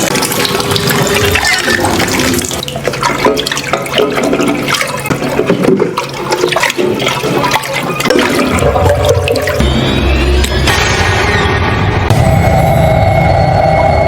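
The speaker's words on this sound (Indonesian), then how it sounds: "Maria yang gabut tiba-tiba heran saat mendengar suara keran." Water gushes loudly and continuously from a tap at night, a close, steady rushing flow that shifts in tone partway through as if the stream or vessel changes.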